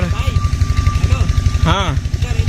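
A tractor engine runs close by with a steady, rhythmic low chugging throb that continues throughout, while voices are heard over it.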